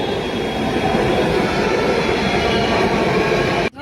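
A Delhi metro train arriving at a station makes a loud, close, continuous rolling rumble with rail clatter, and the sound cuts off abruptly just before the end.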